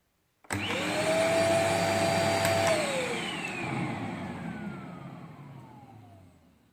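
An Arnica Cyclone ET 14402 electric vacuum cleaner with reduced suction switches on abruptly with a loud whining roar, its motor pitch rising and then sliding down as it runs close by.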